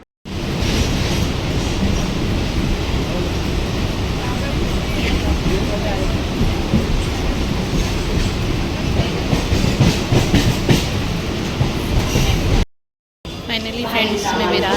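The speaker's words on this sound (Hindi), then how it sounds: "मैं धानु की ट्रेन में ही चढ़ गई।" Mumbai local train running from Virar toward Kurla, a loud steady rumble with clattering wheels and rattling carriages throughout, briefly cutting out near the end, with faint voices in the carriage.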